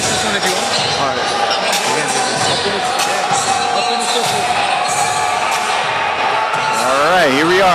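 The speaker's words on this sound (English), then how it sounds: "He enters the cage, and I can hear the crowd support immediately." A cage-fighting crowd cheers and shouts continuously as a fighter walks into the cage at a Zhong Luo cage fighting event, a loud, steady roar filling the space, with a voice emerging briefly near the end.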